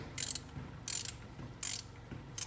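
Ratchet wrench working loose a coolant plug on a 2003 Terminator Cobra, four short bursts of close, crisp clicking separated by brief pauses, with no talk.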